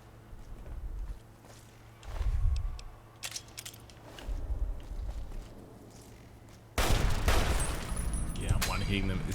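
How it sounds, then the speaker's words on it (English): Battle rifle fire in Fallout New Vegas comes as a few scattered sharp shots with footsteps and movement, then a dense, loud burst of gunfire and combat noise. "The battle rifle's really good."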